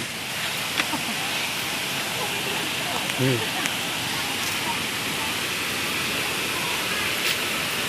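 The nine-tier waterfall at Suan Phueng, Ratchaburi, runs strong and muddy after rain, a loud, steady rush of falling water that fills everything, with a brief voice speaking over it.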